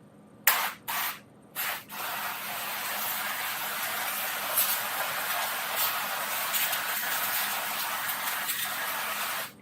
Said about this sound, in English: I'm going to put spray